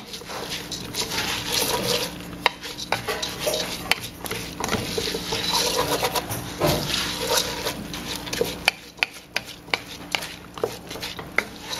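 Kitchari of brown rice, lentils and vegetables stirred in a pot: wet, thick sloshing and scraping that keeps going, with occasional sharp knocks of the spoon against the pot, close by.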